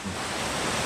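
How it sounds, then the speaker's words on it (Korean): Steady broadband rush of a mountain stream flowing beside a tent pitched in a deep valley at Unmunsa gorge in Cheongdo, a constant near wash of water with no voices. "옆에 물소리가 잘 들리시죠?"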